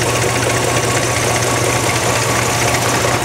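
A car engine runs at a steady, loud idle, a continuous rough drone close by with no pauses, during ignition coil testing.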